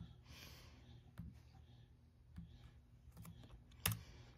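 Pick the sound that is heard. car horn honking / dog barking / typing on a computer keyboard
typing on a computer keyboard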